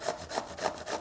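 An English cucumber is rubbed against a grater in four even back-and-forth strokes, giving a close, rhythmic rasping scrape with no voices.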